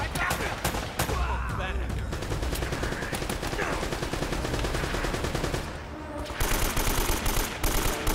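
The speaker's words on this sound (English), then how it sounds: "that sounds like a lot of bullets" Dense, continuous gunfire from the action video game Uncharted: Drake's Fortune, a sustained rattling barrage with heavier booms near the end, loud and cluttered, with a player's voice mixed in underneath.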